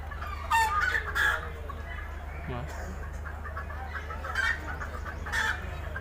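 Red junglefowl at the National Zoological Park in Delhi cluck and crow, with bursts of crowing over a steady low hum; a person speaks quietly between the calls.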